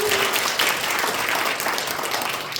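An audience at a seminar in a hotel claps together, a dense and steady round of applause that fills the room without talking.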